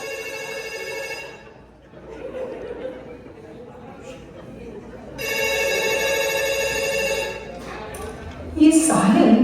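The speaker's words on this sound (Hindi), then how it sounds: "ये साहिल फोन ही नहीं उठा रहा है।" A telephone rings with a bright electronic tone in two bursts, with quiet voices and some chatter around it.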